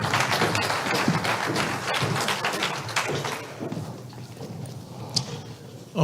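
Dense clapping from a TEDx audience fills the clip, loud and continuous, thinning out toward the end.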